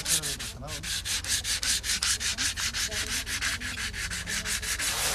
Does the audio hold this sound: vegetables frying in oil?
no